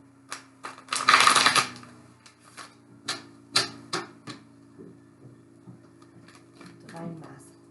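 Tarot cards being shuffled and drawn, a dense burst of riffling near the start followed by scattered short card flicks and taps, with faint talk underneath.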